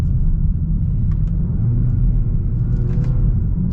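A 2024 Hyundai Elantra N-Line in sport mode pulls steadily with a loud, constant low engine rumble and road drone heard from inside the cabin, a few faint clicks over the top and nobody speaking.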